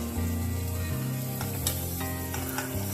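Green chili and capsicum sizzle steadily in a hot pan for dhaba-style paneer bhurji, a continuous close frying hiss with a few brief louder crackles and no talking.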